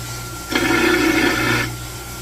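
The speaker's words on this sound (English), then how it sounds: "Just a disc sander, pretty simple here." A disc sander grinds along the parting line of a connecting rod from a 3.6 Camaro engine, a steady abrasive hiss that starts abruptly, holds for about a second, then drops away to a low background hum.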